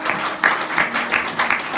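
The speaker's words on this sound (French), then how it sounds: "acclamez le pasteur Valère Campbell" Brief burst of applause from a church convention congregation greeting pastor Valère Campbell, clapping loud and close with some voices mixed in.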